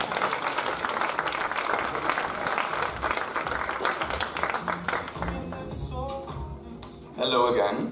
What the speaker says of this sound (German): Okay, dann mal schönen Applaus für Hannes.